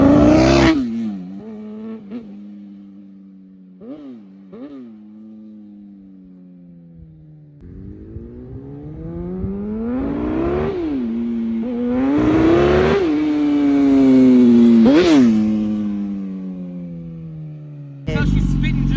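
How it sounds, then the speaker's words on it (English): A Kawasaki ZX10 motorcycle engine misfires as it revs, rising and falling through several throttle blips and a longer climb, with uneven, spitting notes, loud and close. "Right here is where I realize the ZX10 is misfiring."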